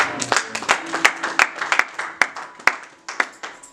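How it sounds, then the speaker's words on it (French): A church congregation bursts into lively applause, many hands clapping in loose, uneven bursts that fill the room, with a few scattered cheers mixed in. "Est-ce qu'on peut acclamer la parole?"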